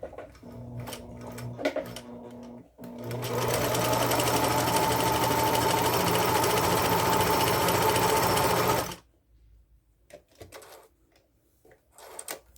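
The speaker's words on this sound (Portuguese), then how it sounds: "nós vamos agora fazer a costura do zigue-zague nele para ver a diferença" A Singer Facilita sewing machine running a zigzag stitch, close up, starting with a few short clicks and then whirring steadily for about six seconds before stopping, followed by faint handling noises.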